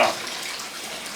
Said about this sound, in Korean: 오늘은 어머니를 목욕시키는 날.